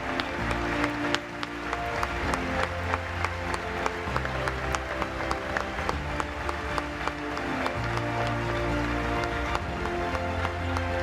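Clapping from the audience at the Gallegos del Año 2017 award gala, steady and fairly full across the whole stretch, with music playing beneath it.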